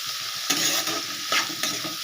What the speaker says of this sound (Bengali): এবারে এইটাকে ভালো করে এইভাবে ভাজা ভাজা করে নেব